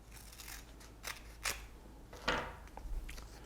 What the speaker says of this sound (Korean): 이 정도 길이로 붙여줄 수 있게 먼저 테이핑을 잘라줍니다